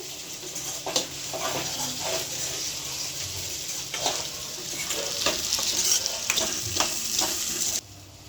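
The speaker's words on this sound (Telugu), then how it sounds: "తర్వాత టమాటాలు వేస్తున్నాను" Tomatoes fry in a pan during cooking of a snack filling, giving a steady sizzle with intermittent stirring scrapes and clinks, close and fairly loud, ending abruptly with no speech.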